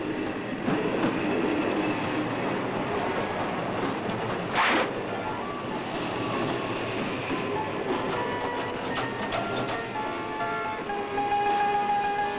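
A train runs steadily past with a continuous rolling rumble and faint clickety-clack, a brief whistle-like burst partway through, fairly close and with no voices.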